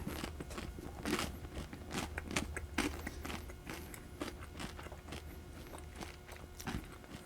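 Repeated crisp crunches of teeth biting into toasted fresh-baked Italian sausage bread, a series of sharp crackly bites and chewing up close, with no talking.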